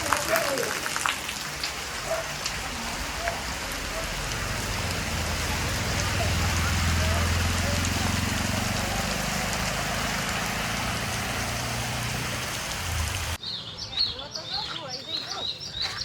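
Heavy rain pours steadily in Vadnagar with strong wind, a dense continuous roar of drops that swells in the middle before cutting away near the end, where voices talk faintly.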